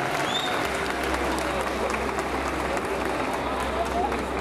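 Audience applause after a martial arts demonstration at an anime convention, a dense crowd clapping steadily close by, with a voice speaking over it.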